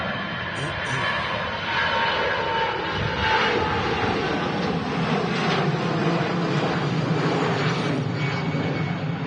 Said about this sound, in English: EasyJet now rolling 2-3 right.